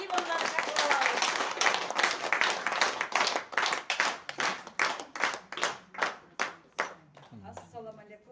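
An audience at a lesson event in Osh claps to welcome a speaker. Dense applause opens, then thins into a slowing run of separate, evenly spaced hand claps that fade to a few final ones.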